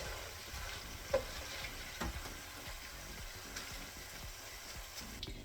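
Chips frying in oil in a saucepan as they are lifted out: a faint, steady sizzle with a few soft clinks and scrapes of utensils against the pan.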